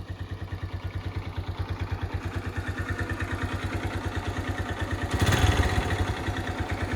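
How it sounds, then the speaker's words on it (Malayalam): A Hero Honda CBZ motorcycle engine idles close by with a rapid, even thumping beat and some mechanical clatter. It swells briefly into a louder rev near the end, and no one speaks. "ഇതാണ് നമ്മുടെ ഈ ഒരു ബൈക്കിൻ്റെ സൗണ്ട്."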